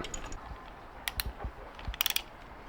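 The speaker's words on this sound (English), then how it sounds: "we're just going to go ahead and tighten that bolt" A ratchet tightens an 8mm bolt while a catch can is installed on a Ford Focus ST, giving a few short bursts of quick metallic clicks close by, with quiet gaps between them.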